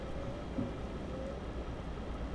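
Steady rain falls with a low, dense wash of noise and a faint distant rumble while a truck drives through Euro Truck Simulator 2.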